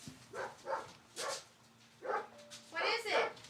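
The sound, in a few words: dog Bear barking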